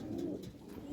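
Chotiyal Madrasi pigeons cooing at close range, a single short soft coo in a quiet coop.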